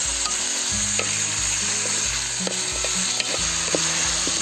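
Pork leg (pata) sizzling in hot oil with tomato, ginger, garlic and onion, a steady close frying crackle with intermittent stirring scrapes throughout, no voices.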